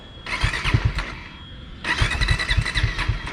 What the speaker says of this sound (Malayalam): നമുക്ക് ജസ്റ്റ് ഒന്ന് വണ്ടി ഒന്ന് കൈ കൊടുത്ത് നോക്കാം